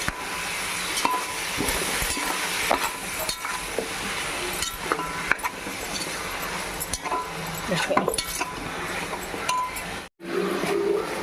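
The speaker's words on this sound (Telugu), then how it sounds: "బాగా తిప్పుకుందాం" Pieces of fried chicken for biryani are stirred in a hot pan, giving a steady sizzle with scraping and clinks of the spoon against the metal, while a voice talks over it.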